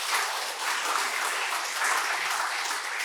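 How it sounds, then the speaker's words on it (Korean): An audience at an academic seminar on the monk Beopjeong's thought and early Buddhism, with monks present, applauds a presenting professor: a thick, even roar of many hands clapping, sustained and fairly near. "우선 여러분 김재선 교수님을 위해서 큰 박수 부탁드리겠습니다."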